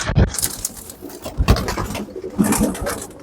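Pigeons coo repeatedly nearby, soft throaty calls rising and falling, with a bit of fluttering and shuffling between them.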